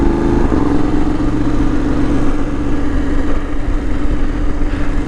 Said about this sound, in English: I've got a pretty noisy exhaust anyway, so just the extra little roar from the tyres